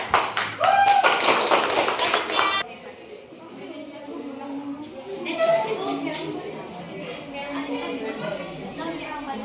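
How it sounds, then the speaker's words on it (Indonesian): Audience clapping after a poem recital in a school setting, a loud burst of dense applause for a couple of seconds that cuts off abruptly, followed by quieter room sound with scattered voices. "Oke, tepuk tangan."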